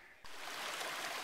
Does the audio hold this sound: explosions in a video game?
no